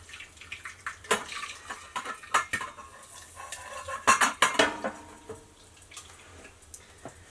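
A metal pot of popcorn kernels in oil is shifted around on a wood stove, giving scattered metallic scrapes and clanks with a few louder grinding bursts, then quieter rattles, with no talking.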